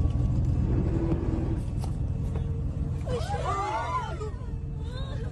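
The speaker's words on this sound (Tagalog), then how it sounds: "Paatras kasing bumulusok ang bus hanggang sa nahulog na ito sa bangin" A bus rolls backwards down a road in Subic Bay Freeport Zone: a steady low engine and road rumble, later joined by passengers' rising screams and wailing cries.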